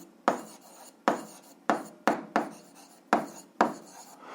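A formula being written by hand, a series of short scratchy pen or chalk strokes in uneven rhythm, about eight distinct strokes close up and fairly quiet, with no voices.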